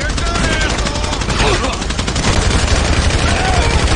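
Gunfire while walking in the video game GTA V: loud, rapid automatic bursts that repeat throughout, with a voice talking faintly underneath.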